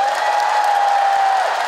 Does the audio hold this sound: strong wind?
no